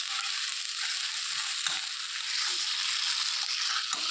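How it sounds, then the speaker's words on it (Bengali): Spice paste frying in a pan, a dense, even, close sizzle that runs throughout with a few soft stirring knocks and no talking. "এটাকে দিয়ে এখন ভালো করে পেস্টটাকে ভালো করে কষাতে হবে।"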